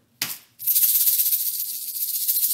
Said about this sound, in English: So that's the sound of our rice.